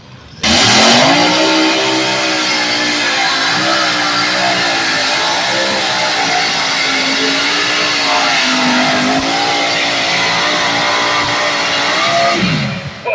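A pulling truck on big 30.5 tires roars at an NTPA tractor pull in Dorr, Michigan, its engine loud and sustained for over ten seconds, pitch rising and wavering as it revs hard down the track.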